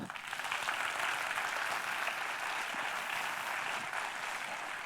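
Sustained audience applause at a motivational success seminar, a dense steady wash of clapping that holds evenly for the whole stretch, with no voices over it.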